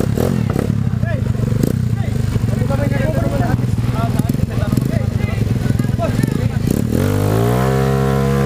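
A trail race motorcycle in San Manuel, Pangasinan, drones and revs loudly up close with steady engine rumble and clatter, then climbs in pitch as it accelerates near the end, while people talk over it.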